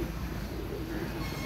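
Pigeons, fancy breeding pairs kept by a hobbyist, give faint, low, rolling coos against a quiet, steady background.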